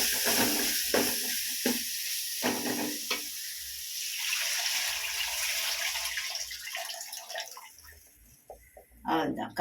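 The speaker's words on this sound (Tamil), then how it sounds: "இப்போ நம்ம புளியை ஊற்றிடலாம்." Tamarind water is poured into a pot of garlic kuzhambu, a bright, steady splashing hiss that trails off toward the end, with a voice speaking in between.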